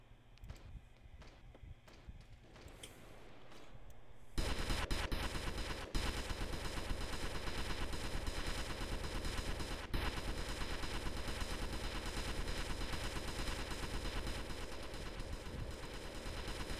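Multi-las weapon in a Warhammer game firing as a sustained, dense rapid burst that starts abruptly and runs continuously at high level, with a few sharper cracks mixed in.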